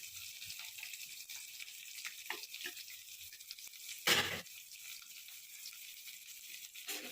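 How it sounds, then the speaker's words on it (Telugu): Mint, onions and green chillies fry in a pan for green chilli chicken, giving a soft steady sizzle with a brief louder clatter midway and another near the end. "కొద్దిగా ఇది ఫ్రై కావాలండి."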